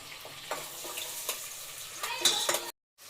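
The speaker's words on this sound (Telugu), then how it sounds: "ఇవండి బ్రౌన్ కలర్ వచ్చేంత వరకు ఫ్రై చేసుకోవాలి ఆనియన్స్." Onions fry in a pan until brown for a basmati pulao, producing a steady close sizzle punctuated by regular spatula scrapes and light metal clinks before the sound cuts off abruptly.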